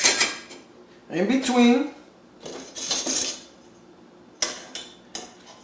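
Metal stove drip pans and trim rings from a 1960s or 1970s range being set in place, clattering and clanking in several separate bursts, with a brief voice speaking among them.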